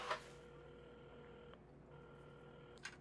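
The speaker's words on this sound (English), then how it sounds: "at the counter, Carmen had started dialing the phone" Quiet telephone dialing in the video game Assemble with Care: a few sustained tones and short clicks at a café counter, faint and steady with no voices.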